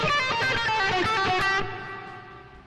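Electric guitar plays a blues lick pattern in two positions, a run of quick, bright picked notes with a distorted edge, then a held final note that rings out and fades, with no talking.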